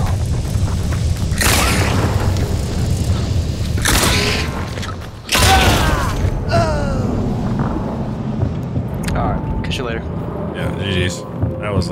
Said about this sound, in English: Ooh, there's another guy shooting him.